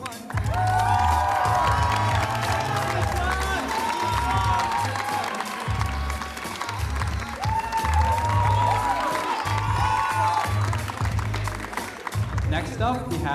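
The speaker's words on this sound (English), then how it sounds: "Give a round of applause for the Friends and Goons." Audience at a Filipino culture night erupts in loud, sustained applause and cheering, with shouts and whoops over steady clapping and a low musical hum underneath, filling the hall for the full stretch.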